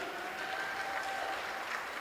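An audience claps for a performer who has just come on stage at a charity concert. The applause is faint and steady, a soft, even patter heard from a distance.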